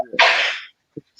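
A single sharp human sneeze from someone with a cold, a quick intake of breath followed by a loud explosive burst, then a short faint sniff afterward.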